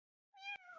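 A single clear cat meow, rising then holding steady, close and fairly quiet, with a brief click midway; no talk.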